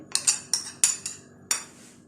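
Metal spoon clinking against a bowl while semolina and ghee are mixed into flour, a run of sharp separate knocks spaced irregularly, close by.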